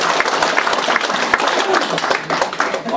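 A crowd at a political lecture event breaks into sustained applause, dense and loud, with scattered voices underneath.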